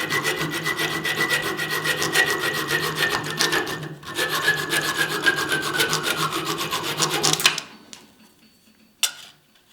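Hand hacksaw cutting through metal, fast rhythmic back-and-forth rasping strokes with a brief pause midway, loud and close, stopping abruptly followed by a faint clink.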